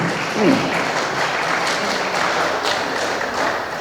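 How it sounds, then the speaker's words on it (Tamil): Dense, steady applause from an audience at the AVM Studio opening event, a continuous wash of many hands clapping at moderate loudness, with faint voices mixed underneath. "ஆகவே நல்லா கைதட்டுங்க"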